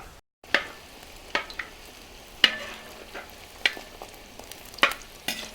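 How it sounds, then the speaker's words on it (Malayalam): Legemath dough dropped into hot oil, a soft steady sizzle with a few small spatters and scraping stirs at intervals, fairly quiet and with no talking. "എന്നിട്ട് ചൂടായ എണ്ണയിലേക്ക് ഇടുക"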